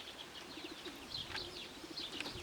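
Faint, low cooing from Janssen racing pigeons at a distance, with occasional light chirps over a quiet, hissy background.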